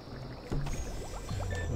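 Bubbling of a potion cauldron in the Harry Potter and the Half-Blood Prince video game, heard as short watery gurgles and rising bubble pops over a steady game background, moderately loud and continuous.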